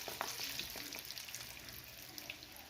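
Moong dal pakodas deep-fry in oil over a medium-low flame, with a faint continuous sizzle and light bubbling crackle. Occasional small clicks break in, and no one speaks.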